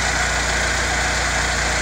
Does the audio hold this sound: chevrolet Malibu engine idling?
yes